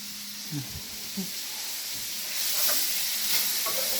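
Macaroni cheese being stirred in a pan, with faint scraping strokes and a soft sizzling hiss underneath, quiet and close.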